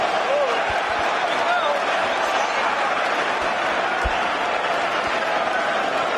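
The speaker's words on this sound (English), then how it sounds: "Wow, what noise, what a crowd to witness" Roaring crowd noise in a boxing arena before the Johnny Fisher vs Dave Allen rematch, a dense continuous wall of cheering with a few sharp thumps and a voice talking over it.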